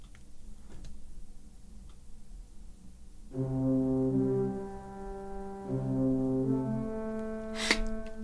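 Playback from the Playscore 2 notation app plays a solo melody in sustained synthetic tones that begin after a few seconds of faint background hiss and clicks, with a sharp click near the end.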